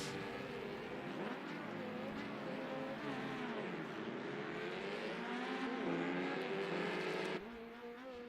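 Historic race cars in the rFactor 2 racing sim drone along steadily with rising and falling engine pitch as they accelerate and shift, several machines blending into one continuous loud roar throughout.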